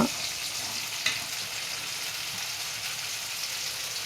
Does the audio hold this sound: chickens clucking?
no